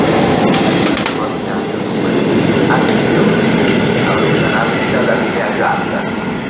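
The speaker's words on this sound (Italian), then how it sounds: "il treno regionale 21917 di Trenitalia, proveniente da Rosano e diretto a Merito di Porto Sanno nelle ore 9." Trenitalia regional train at Villa San Giovanni station, a loud, steady rumble of rolling stock with metallic wheel clatter and faint squeals throughout, with some background voices.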